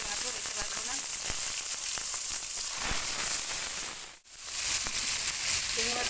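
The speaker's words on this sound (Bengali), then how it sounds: "তেল গরম হয়ে গেছে, এবার চিংড়ি মাছটা একটু ভেজে নেব।" Shrimp frying in hot oil gives a steady, bright, close sizzle with scattered pops and crackles, briefly dipping quiet before resuming just as strongly.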